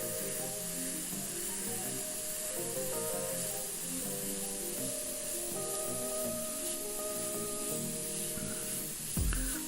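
Continuous airbrush spray hiss, faint and steady, with light tonal hums and clicks mixed in and a short louder thump near the end, no voices.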